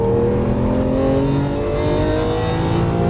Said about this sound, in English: Now squeeze the power in. Full throttle out.